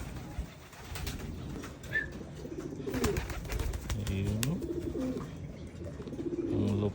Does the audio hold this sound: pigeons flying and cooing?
yes